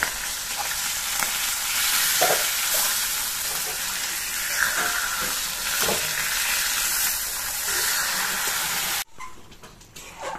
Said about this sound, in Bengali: আর দুটো মাথা বাকি রয়েছে, মাথাটা ভাজছে।